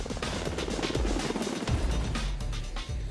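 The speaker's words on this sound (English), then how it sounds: "one of the most technologically advanced helicopters in the fleet, the MH-60T Jayhawk" An MH-60T Jayhawk helicopter drones steadily with a heavy rotor thump and whining engine, loud and continuous throughout.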